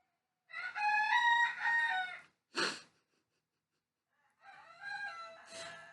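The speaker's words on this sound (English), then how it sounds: "And the roosters are making noise." Roosters crow outdoors, two or three long, loud calls close by with a short sharp squawk between them and brief silent gaps.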